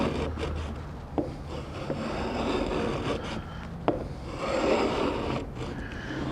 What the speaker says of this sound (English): I'm just taking some small shavings